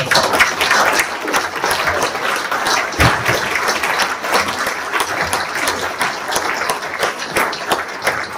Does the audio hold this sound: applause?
yes